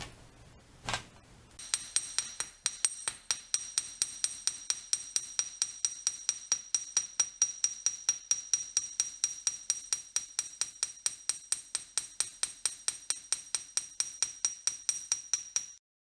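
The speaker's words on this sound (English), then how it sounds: "First, a classic, the ball-peen hammer." A ball-peen hammer strikes sterling silver in a rapid, steady run of sharp metallic taps, many dozens of close, bright ringing blows sustained over a long stretch after one heavier opening hit.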